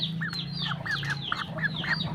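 Farm chickens after rain give a quick run of about eight short, close clucking calls in an uneven rhythm over a low background hum.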